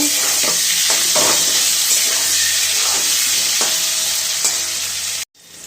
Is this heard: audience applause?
no